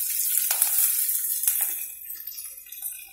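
Green chilies drop into hot oil for tempering, giving a bright, hissing sizzle with a few crackling pops, steady and close without any voices.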